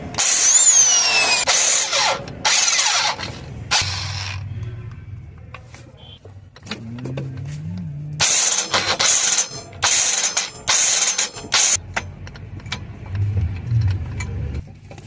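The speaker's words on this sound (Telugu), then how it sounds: "మనము ఇప్పుడు గేర్ బాక్స్ 5 నెంబర్ ఎలక్కి తీసుకొని దీన్ని తిప్పుతున్నాం" Bolts on an Ashok Leyland Dost gearbox are turned with a wrench during clutch kit removal, heard as repeated bursts of metallic ratcheting and rattling separated by short pauses, fairly close.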